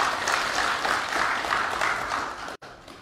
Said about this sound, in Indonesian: Ini orang-orang cerdas, tepuk tangan dulu.